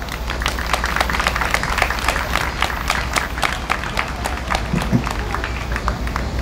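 A crowd at a resident doctors' strike rally in Korea claps and cheers, dense steady applause with scattered sharp claps continuing throughout at close range.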